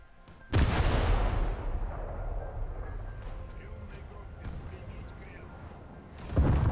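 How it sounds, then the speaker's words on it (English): The German ship Graf Spee fires high-explosive shells in a War Thunder naval battle, with a heavy boom opening the clip, a long rumbling decay and another blast near the end, under a speaking voice. "the Graf Spee is now taking angry shots at us with high explosive"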